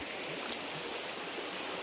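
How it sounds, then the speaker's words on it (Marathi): The Torna river flows past a village and farm fields as a soft, steady rush of water, heard faint and unbroken from a short distance, with no one speaking. "हा नदीचा प्रवाह"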